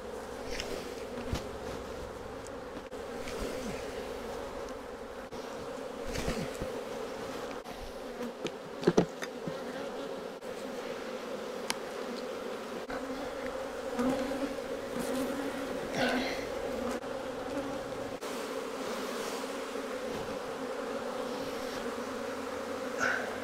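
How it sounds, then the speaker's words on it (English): Honeybees being shaken off a hive frame during a hive split hum in a steady, close, dense buzz throughout, with occasional knocks and thumps from the frame and handling. "Now we just got to shake the rest of the bees."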